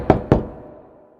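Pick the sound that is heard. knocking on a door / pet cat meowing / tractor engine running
knocking on a door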